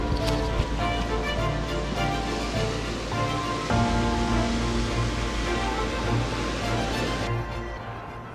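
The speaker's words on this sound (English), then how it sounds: "The wind gets louder, the waves take over, and the city fades away." Steady roaring wind and surf crash along the shore by Montauk Lighthouse, loud and continuous. A sustained broadband wash runs under a low rumble, and there is no talking.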